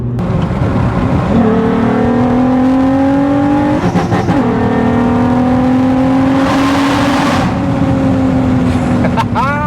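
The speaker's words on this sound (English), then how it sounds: "the car is ridiculously loud, like loud" A very loud Nissan Skyline R32 engine revs hard and close by, its pitch climbing in repeated sweeps, with voices talking under the roar.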